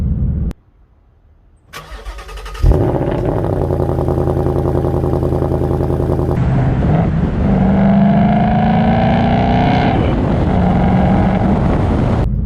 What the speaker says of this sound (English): Ford Performance dual tip or quad tip Sport Active exhaust, and it sounds amazing